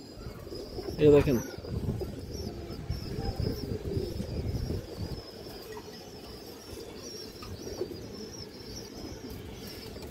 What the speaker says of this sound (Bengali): সুন্দর একটা নর কবুতর, অনেক চঞ্চল কবুতর দর্শক